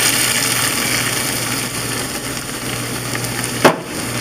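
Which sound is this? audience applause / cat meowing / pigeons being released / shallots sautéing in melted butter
shallots sautéing in melted butter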